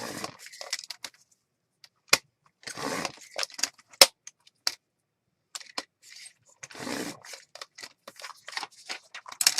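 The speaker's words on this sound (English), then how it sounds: "So I'm going to cut some 1-inch strips." Scissors snip paper into 1-inch strips for a junk journal, a series of sharp, close, irregular cuts and rustles separated by short pauses.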